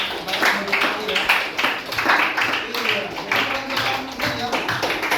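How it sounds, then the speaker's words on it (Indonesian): A group claps in a quick, steady rhythm of taps at a teacher training session, moderately loud, with voices mixed in underneath. "Tepuk tangan dulu dong jawabannya ya"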